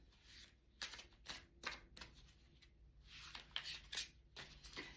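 Tarot cards are shuffled by hand in a quiet room, a series of faint, brief riffling and slapping bursts in an irregular rhythm with no talking.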